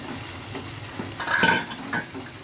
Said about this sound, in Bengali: পেঁয়াজটা নেড়ে দিচ্ছি